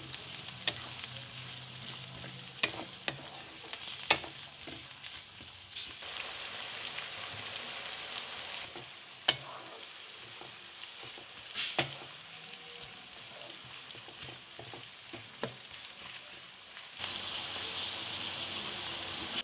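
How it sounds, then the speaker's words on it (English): Chopped onion stir-fries in a pan over a low flame, a soft, continuous sizzle with occasional clicks and scrapes of stirring, fairly quiet and without voices. "add 2/3 of your chopped onion. Stir fry on a low flame until translucent."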